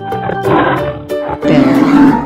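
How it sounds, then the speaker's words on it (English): A lion roars twice, loud and close, each deep growling roar swelling and then fading, separated by a brief pause. "Lion."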